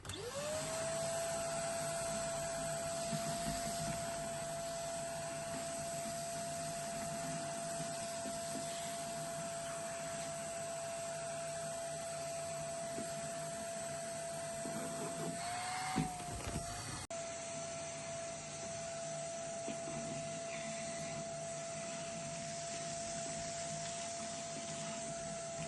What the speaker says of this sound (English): we're going to hoover it up.